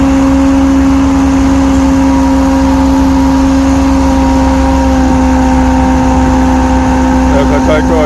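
A tractor engine at a rural tractor fair runs loud and close, a steady droning hum with strong tonal harmonics held throughout and no clear pauses.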